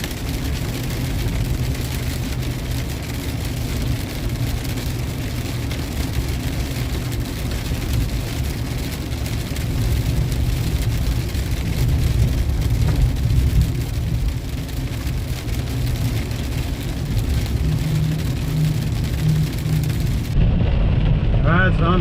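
Heavy rain drums steadily on a vehicle driving through a massive Texas thunderstorm, a dense, constant wash with low road rumble underneath for the whole stretch, with no clear breaks.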